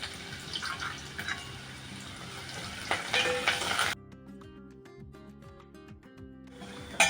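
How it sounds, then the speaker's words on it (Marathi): Garlic and onion dropped into hot oil for a Malvani horse gram curry, crackling and sizzling up close for about four seconds before the sound cuts to a quieter, calmer stretch. "आता त्याच्यामध्ये आपण लसूण टाकू आणि कांदा आणि व्यवस्थित तेलामध्ये भाजून घ्यायचं आहे"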